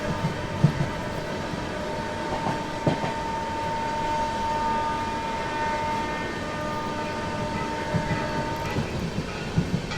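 Swarn Jayanti Rajdhani train rolling through a junction at a steady pace, a continuous rumble and rattle of wagons with occasional clicks and clanks from the track, fairly close and even throughout.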